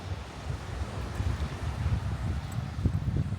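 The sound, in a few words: wind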